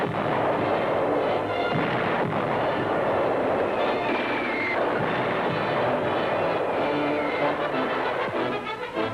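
Artillery cannon fire from the Korean War, covering the Hungnam evacuation, comes through on an old newsreel soundtrack. Booming blasts roll one into another, forming a dense, continuous barrage that stays loud throughout.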